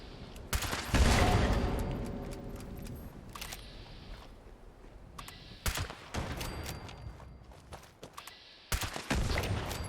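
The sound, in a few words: Far-flung Fireworks weapon firing in video game Fallout 76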